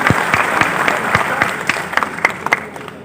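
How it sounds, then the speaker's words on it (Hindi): Audience applause greets a poet at an Independence Day poetry gathering (kavi sammelan), with a steady patter of clapping and a few sharper, closer claps standing out over about three seconds. "अपने शहर के कवि के लिए तालियों से स्वागत करें"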